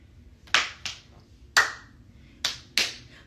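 Five sharp hand claps in an irregular rhythm mark out a dance routine, crisp and close against a quiet room.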